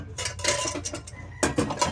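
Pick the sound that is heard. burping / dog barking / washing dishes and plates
washing dishes and plates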